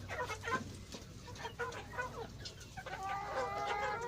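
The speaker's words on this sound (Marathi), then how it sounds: "अशा पद्धतीच्या विविध कलर असलेल्या या गिरिराज जातीच्या कोंबड्या असतात" Giriraja desi chickens on a poultry farm give repeated, close clucks and calls over a low farmyard murmur, with a brighter, more tonal squawk near the end.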